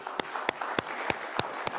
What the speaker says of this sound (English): I want to just encourage us to give them a loud applause.